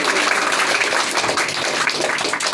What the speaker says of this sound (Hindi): मैं सबको अपने तहे दिल के अब तक के सबसे जोरदार ताली चाहता हूँ कलाकारों के लिए